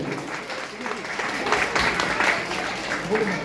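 Audience applause at an athletic club gathering marking Rabindranath Tagore's birthday: a dense, steady wash of clapping from a crowd, fairly close and sustained throughout without a clear break.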